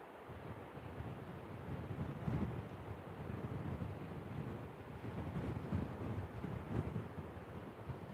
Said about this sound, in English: Usually when the wind picks up like this, you get a lot of the sand from the dunes kicked up.